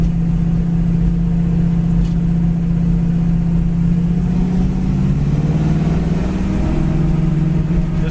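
A black-primered 1969 Chevy Camaro pulls away in second gear, its engine note rising steadily and loud from close by, with a strong low drone and no talk over it.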